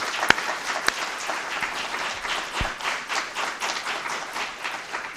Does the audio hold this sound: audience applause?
yes